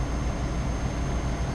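Ashok Leyland truck engine in Euro Truck Simulator 2 droning steadily as the truck picks up speed on a downhill stretch, a continuous low rumble throughout with no talking.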